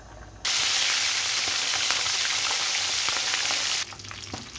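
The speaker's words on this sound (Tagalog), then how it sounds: "Tapos, iprito na natin ang ating isda." Fish hits hot oil and erupts into a loud, steady sizzle that holds for a few seconds before dropping back to a quieter, crackling fry.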